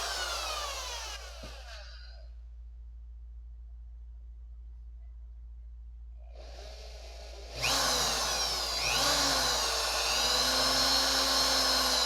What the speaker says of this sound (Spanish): La podemos hacer por dos vías, con un cautín o soldador de estaño o utilizando un taladro